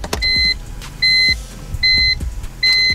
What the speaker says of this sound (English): got the key ignition, I'm gonna turn it